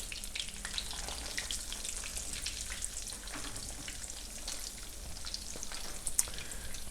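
Thin chicken cutlets frying in a crowded pan, a constant fine sizzle with light crackles and an occasional sharper pop, close and fairly quiet, no voices.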